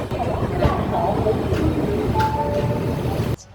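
A Chennai Mail passenger train rumbles along steadily while entering Visakhapatnam, with a low continuous roar, faint squeals and rattles, until the noise cuts off abruptly near the end.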